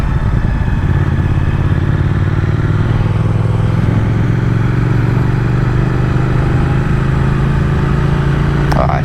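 A Triumph Speed Twin motorcycle cruises along with a steady, loud engine drone and a low, even rumble that holds without letup from start to finish.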